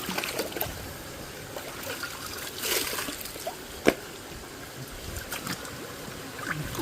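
Water splashes and trickles as feet are washed off outdoors at night, a soft continuous close wash with one sharp knock partway through.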